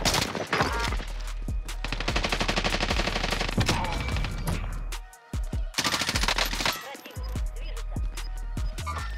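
Gunfire in the video game Warface: rapid automatic bursts and rattling volleys, loud and close, with a short pause midway before firing resumes, plus scattered sharp single shots.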